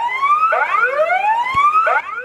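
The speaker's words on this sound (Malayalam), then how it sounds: "വൈകിട്ട് 4 മണിക്ക് മോക്ക് ഡ്രില്ലിൽ സൈറൺ മുഴങ്ങി" A civil defence mock drill siren wails at the Palakkad civil station, its pitch sweeping upward in repeated rising glides, loud and steady throughout with no talking.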